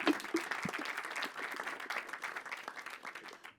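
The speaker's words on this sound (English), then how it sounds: "So big applause to this amazing panel." An audience at an agroecology financing conference gives a panel a burst of applause, many hands clapping steadily, moderately distant and fairly soft, tapering off at the end.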